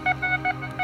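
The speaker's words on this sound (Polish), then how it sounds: "Zobaczcie, jaki ten wykrywacz jest szybki." A metal detector gives repeated short electronic beeps over a buried coin, four quick, even tones in under a second, close and clear.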